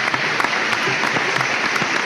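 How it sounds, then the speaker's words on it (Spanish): Steady, dense applause from a studio audience on a late-night show, a continuous wash of clapping heard alone and close throughout. "No hace falta que te aplaudas a vos mismo, Carlos."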